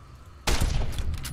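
Gunfire in Fallout New Vegas, a modded playthrough, breaks out suddenly as a loud, dense burst of rapid shots after a quiet moment, continuing without pause to the end.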